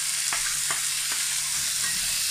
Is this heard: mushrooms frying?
yes